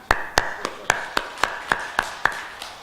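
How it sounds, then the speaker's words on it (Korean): Audience at a Sunday Buddhist family dharma gathering in a Jeonbuk Buddhist hall clapping in unison: about ten sharp, evenly spaced claps in a steady rhythm, close and clear, with no talking. "박수 한번 쳐주세요."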